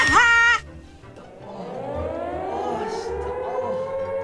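A loud blaring tone cuts off abruptly, then a long eerie wailing siren from Siren Head in a video game rises and sustains, with a low rumble underneath.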